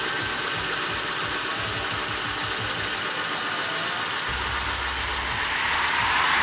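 A steady, loud engine drone runs throughout with a rough, broadband hiss and low rumble, consistent with an idling truck with a leaky exhaust.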